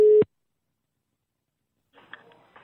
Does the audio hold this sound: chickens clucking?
no